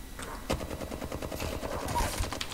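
Rapid bursts of gunfire in the battle-royale shooter Apex Legends, close and fairly loud, with a sharp shot near the start and continuous firing and game effects throughout, no voices.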